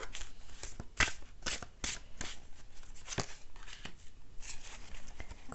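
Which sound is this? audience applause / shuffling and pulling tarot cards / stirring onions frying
shuffling and pulling tarot cards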